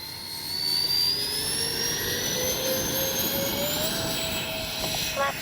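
A Freewing 80mm A-10 Thunderbolt RC model jet with electric ducted fans taking off, a rising high-pitched whine and rushing roar that climbs steadily in pitch as it spools up and moves away.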